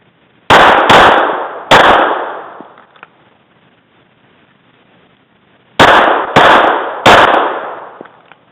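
A Glock 26 pistol fires six sharp, loud shots at close range, in two quick bursts of three separated by a pause of several seconds. No voices are heard.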